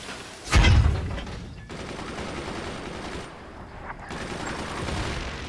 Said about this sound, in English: We were able to fire the missiles.